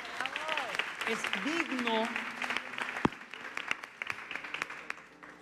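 Studio audience applause on a Mexican TV variety show builds as a voice talks over the first half, then continues alone as scattered, crisp clapping fading in and out.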